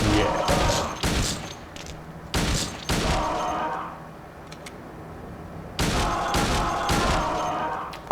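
Gunfire echoing down a narrow hallway in the Silent Hill 2 video game: clustered bursts of loud shots, a quieter lull in the middle, then another run of rapid blasts.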